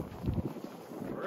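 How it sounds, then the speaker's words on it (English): Wind gusts buffet the microphone outdoors in icy conditions beside a vehicle-mounted awning, a low rumbling roar that swells and fades throughout without any talk. "And a bit of wind."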